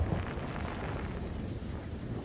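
Fireworks bursting in the Hitman video game near the Eiffel Tower, a continuous low rumbling boom with crackling texture, moderately loud and steady throughout, no voices.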